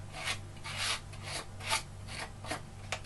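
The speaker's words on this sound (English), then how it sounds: "just to roughen it up a little bit by just running the blade of the knife" Knife blade scraping around the cut edge of a pumpkin to roughen it, producing about seven rhythmic raspy strokes, close and moderately loud, over a low steady hum.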